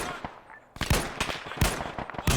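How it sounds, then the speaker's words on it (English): Gunfire crackles in the military shooter Arma 3, a series of sharp reports in irregular bursts, some closer and punchier, others softer and farther off, over a quiet background. "Oh, shots again. Oh, farther off to the left."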